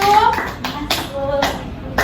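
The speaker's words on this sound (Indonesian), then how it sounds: "Beri tepuk tangan kelompok 1" Primary school children in a classroom clap in short uneven bursts for group 1, with a voice and a teacher speaking over the claps.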